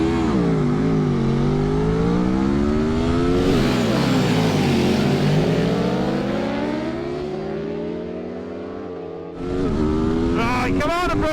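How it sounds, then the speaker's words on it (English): Aprilia hyper naked motorcycle accelerating hard in a drag race, loud close engine climbing through rising revs with gear changes, easing off toward the end before a sharp burst of high-pitched revving. "let's do some actual drag racing"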